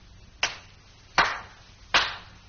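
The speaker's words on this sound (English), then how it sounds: "I clap my hands 3 times," Hands clap three times, sharp and distinct, spaced at even intervals of roughly three quarters of a second, close and crisp against a quiet background.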